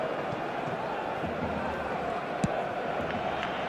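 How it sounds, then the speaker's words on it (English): Steady roar of a stadium crowd in the eFootball 2025 football video game, a dense continuous murmur with no clear peaks and a single short thump partway through, heard without anyone talking over it. "the crowd's impatience is an indicator that they haven't quite given up on a goal just yet"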